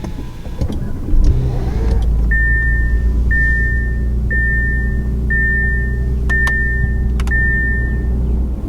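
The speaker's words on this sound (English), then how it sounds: "Now start it up, put your foot on the brake, and press the dash-mounted button." Push-button start of a 2022 Audi A7 luxury sport sedan: a low, steady engine hum settles in after a brief thump, while a series of about six electronic chimes sounds from the cabin, with a few clicks.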